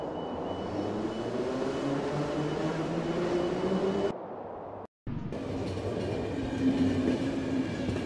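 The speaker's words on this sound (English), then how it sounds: "Train time." A train rumbling along in the video game The Final Station, a steady droning roll with a low hum, briefly dropping out to near silence before resuming at the same level.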